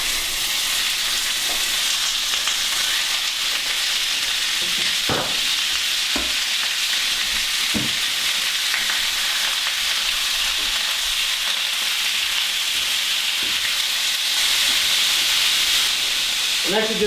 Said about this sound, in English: we're gonna add our meat and we're gonna brown it on all sides